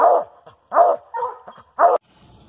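A coonhound bays loudly and close on a coon hunt, giving three long, ringing barks with shorter yips between them, then falling quiet.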